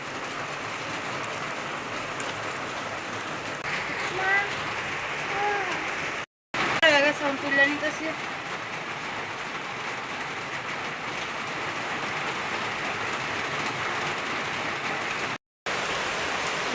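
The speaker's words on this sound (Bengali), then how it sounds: "সকাল তো অনেক বৃষ্টি নামছে" Heavy rain falls steadily in a dense, even patter. A short voice-like sound rises briefly partway through, and the sound cuts out twice for a moment.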